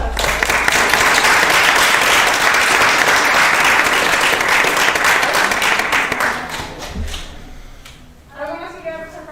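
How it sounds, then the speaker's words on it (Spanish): Audience at a cosplay stage contest applauds loudly and steadily for a cosplayer's parents, the clapping thinning out near the end as a voice comes in over the fading applause. "Así que un aplauso también para los padres."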